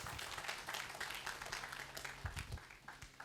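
Applause at a conference, a quiet scattered patter of many hands clapping, steady but soft throughout with a few sharper individual claps.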